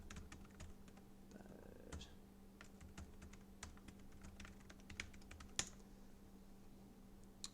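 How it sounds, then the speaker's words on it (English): Typing on a computer keyboard produces a quick, steady patter of faint clicking keystrokes over a low electrical hum, close but quiet, with no talking. "Let me just type that into the chat for people."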